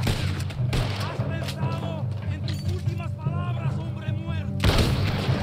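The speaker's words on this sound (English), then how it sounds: "There's another set of cannons up there!" Cannon fire on an island battle in Red Dead Redemption 2 booms out among bursts of gunfire and game noise, with a loud blast near the start and another near the end, while players shout over the action.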